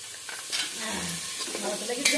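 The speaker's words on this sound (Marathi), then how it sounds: "सगळे मसाले परतून घेतली" Spices sautéing in a pan for biryani, a soft sizzle with a few stirring scrapes, close and fairly quiet.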